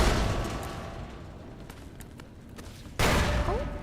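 Gunfire in Fallout: New Vegas, a loud sustained burst of shots at the start that thins into a rumbling backdrop, then a sharp louder crack near the end with a short whistling ricochet-like tone after it.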